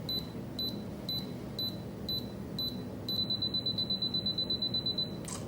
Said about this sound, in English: put on the self timer, and then I can like move around before the pictures